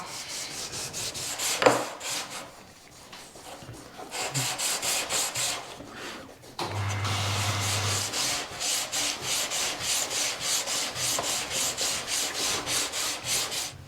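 A car pedal box being hand-sanded, giving steady, rhythmic rasping strokes that repeat closely and evenly, loud and near, with a short pause partway through before the scrubbing resumes.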